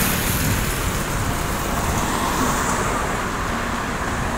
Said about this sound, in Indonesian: Nih bus Rosalia sepertinya mundur nih teman-teman.